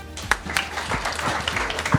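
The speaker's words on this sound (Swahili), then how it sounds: "Tumpigie makofi." An audience at a Kenyan investment talk applauds, a steady wash of many hands clapping at close range throughout, with a few louder individual claps standing out.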